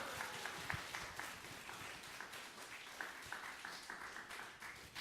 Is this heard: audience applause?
yes